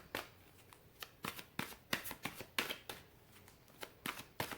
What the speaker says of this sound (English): Let's get a few more cards out of here.